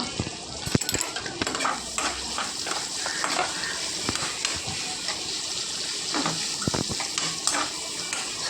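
Onions frying in coconut oil in a pan, a busy crackling sizzle with repeated scraping stirs and occasional clinks of the utensil against metal, close and moderately quiet, with no talking.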